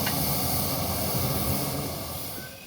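A red miniature train departs at Newby Hall, a steady loud hiss and low rumble of the running engine filling the scene, slowly fading as it moves away.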